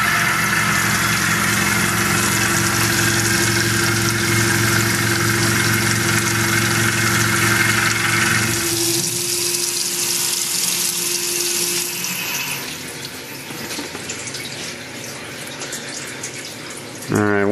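A Tormach PCNC mill cuts metal at a 1000 RPM spindle speed, a 0.025-inch width of cut and a 20-inch-per-minute feed, making a continuous loud, hissing whine with a steady tone that eases and thins toward the end.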